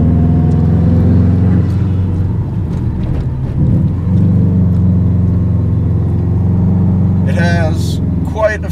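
A 2007 Subaru Impreza STI with a turbo drives with a steady low engine drone and some wind rumble throughout; a brief higher whooshing burst near the end sounds like the turbo spooling.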